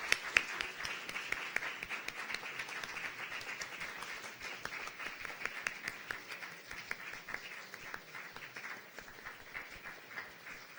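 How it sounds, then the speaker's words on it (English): Sustained audience applause at a youth conference opening ceremony in Okayama, a steady clatter of many hands clapping throughout, fairly faint and distant, with no speech. "give another round of applause as the Director General makes her exit"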